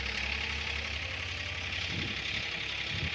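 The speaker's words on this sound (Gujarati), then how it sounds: "આ બાજુ ટ્રેક્ટર ચાલુ છે અને પેલી બાજુ ટ્રેક્ટર ચાલુ છે" Two tractors running in a groundnut field on a farm, their engines giving a faint, steady low rumble with a constant broadband hiss over it, heard from some distance with no voices.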